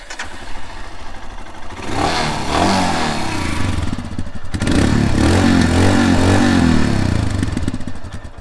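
A Royal Enfield Scram 411 motorcycle engine runs close by, idling with a throbbing exhaust note, then revving up twice in strong, sustained pulls that settle back, loud and alone without talk.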